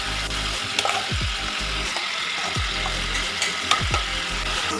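Ground masala for a Mangalorean prawn ghee roast boils and sizzles hard in a pan over a high flame. It makes a steady, close crackling hiss, with repeated scraping and clanking strokes as the mixture is stirred, and no one speaks.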